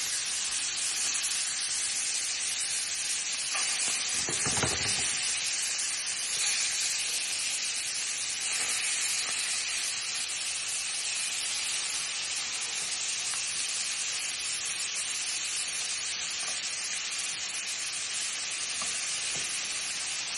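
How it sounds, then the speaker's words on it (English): Shrimp searing in a hot pan give off a loud, steady sizzle that holds for the whole stretch, with occasional sharper spits and crackles and no talking. "right now I'm just looking for a nice sear, get a nice color on them before I flip them"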